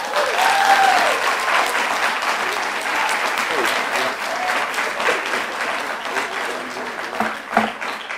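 Audience at a school board meeting breaking into loud, sustained clapping right after a public comment, with a few cheers and voices mixed into the dense applause as it slowly tapers off.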